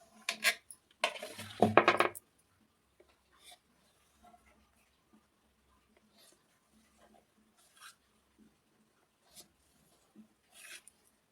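A knife cuts set Mysore pak into pieces in its tray, with a burst of metallic scraping and clinking at the start followed by sparse, quiet taps and scrapes.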